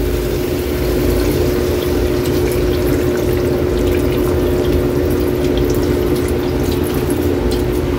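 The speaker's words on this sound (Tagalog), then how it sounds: "Lagay na tayo dito, Kaili, ng tubig para tuluyan ng maluto itong ating beef." Water poured into a pan of beef and broccoli during cooking, a steady loud rushing pour with a constant hum running under it.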